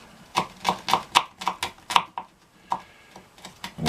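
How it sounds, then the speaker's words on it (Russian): Knife strokes finely chopping a garlic clove on a board, roughly a dozen crisp taps in an uneven rhythm, close and fairly loud, with brief pauses between bursts and no talk. "теперь надо нарезать чесночину"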